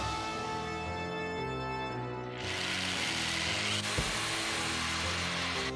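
A power tool whines steadily, then a saw bites into the wooden edges of a coffin-shaped buffet table being tapered, a continuous close, loud cutting roar.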